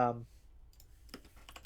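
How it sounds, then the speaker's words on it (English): Computer keyboard typing near a microphone, a brief voice at the start followed by faint scattered key clicks and a short burst of taps near the end. "If you hear my keyboard"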